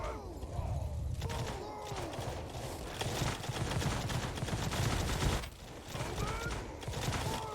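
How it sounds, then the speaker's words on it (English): Ranks of musket-armed troops in the Mount and Blade 2: Bannerlord video game fire repeated rolling gunfire volleys, a steady crackle of shots with louder bursts amid battle noise, and faint voices in the background. "A deadly funnel of gunfire."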